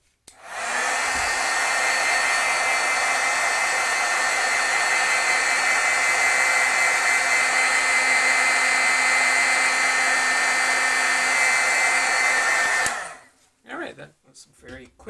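A heat tool blows a continuous, steady hiss of hot air for about twelve seconds to set ink on a stamped scene, then cuts off abruptly, leaving faint handling noises.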